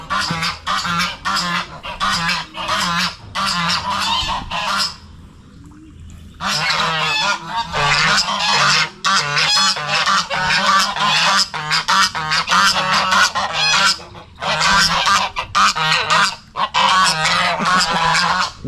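Loud, continuous honking from a flock of geese close by, overlapping harsh calls with only a brief lull partway through.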